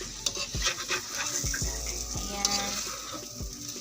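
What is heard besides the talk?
stirring stir-fry beefloaf in a pan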